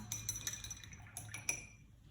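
A paintbrush rinsed in a cup of water while painting on canvas, with quick light clinks and taps of the brush against the cup, close and fairly faint, fading toward the end.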